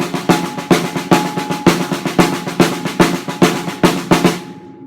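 A drum kit plays a tight, busy groove in 19/8 of paradiddles and triplets with regular accented hits, loud and close, ending on a ringing cymbal.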